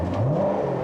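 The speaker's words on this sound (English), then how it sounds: "I never get tired of listening to a Corvette's, small block V8." A 2018 Chevrolet Corvette Grand Sport's small-block V8 revs briefly, its loud, close engine note climbing in pitch over a moment with no talking.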